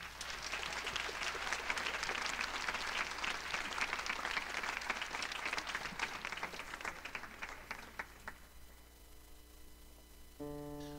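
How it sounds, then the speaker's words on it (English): Sustained applause from the audience at a school concert, thick steady clapping with a faint hum underneath, fading out near the end as a few musical tones begin. "Big round of applause, everybody."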